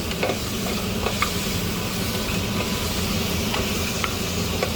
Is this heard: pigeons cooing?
no